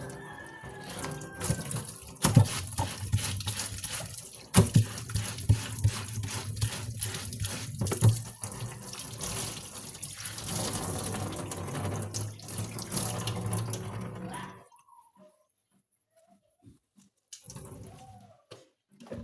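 Water runs from a tap into a sink in a steady, close splashing stream for most of the clip, then stops abruptly, leaving near silence; a rooster crows faintly in the background.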